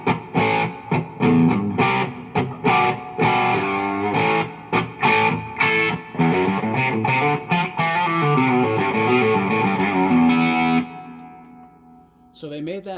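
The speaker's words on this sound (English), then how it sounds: "So setting number 1 is the Tweed Champ from Fender." Electric guitar through a Fender Super Champ X2 tube amp on its Tweed Champ voicing, played as choppy strummed chords and single notes with reverb, fairly loud, ending abruptly before a brief soft strum.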